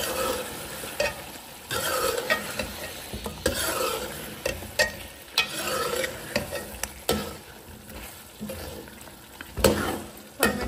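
Peeled potatoes frying in a pan, a soft continuous sizzle broken by repeated stirring clatters and scrapes, close and fairly quiet, with no one talking.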